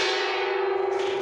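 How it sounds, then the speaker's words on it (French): A gong struck in a trading room to celebrate record monthly volumes rings out in a sustained, shimmering tone that slowly decays, with no talk. "à la fin de chaque mois, on tape dans le gong"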